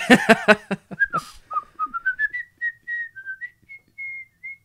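A person whistles a slow, sliding melody of sustained notes after a brief burst of speech at the start.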